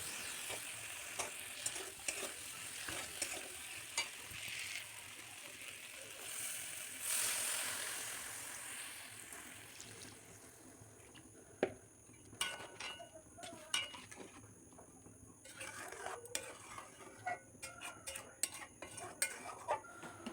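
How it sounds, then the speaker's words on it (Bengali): Curry simmering in a pan with water added, a faint sizzle and hiss at first, then scattered clinks and taps of utensils against the pan, quiet and close. "তরকারিতে জল দিয়ে দিলাম, এবার ঢাকা দিয়ে দেবো"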